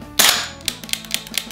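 Electric gas blowback airsoft rifle, a GBLS DAS GDR-15, fires nearby: a sharp first crack followed by a rapid, evenly spaced string of snappy mechanical shots.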